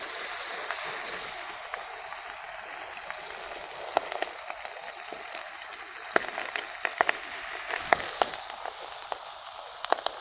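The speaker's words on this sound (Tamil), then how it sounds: "இப்போ எண்ணெயில் போட்டு நம்ம பொரிச்சு எடுத்துக்கலாம்." Two hotel-style chicken leg pieces deep-fry in hot oil with a loud, continuous sizzle peppered with sharp pops and crackles throughout.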